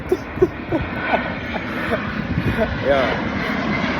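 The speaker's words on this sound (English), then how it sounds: "all right, well, apparently another plane." An airplane drones overhead as a low, steady engine rumble beneath someone talking casually over it.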